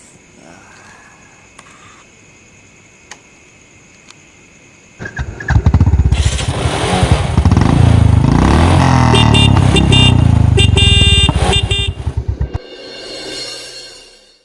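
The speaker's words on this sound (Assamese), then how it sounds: "বাইকখন ষ্টাৰ্ট দে।" Quiet ambience gives way to a motorcycle firing up at about five seconds, then a loud, close engine roar that holds steady as the bike rides off before cutting out near the end.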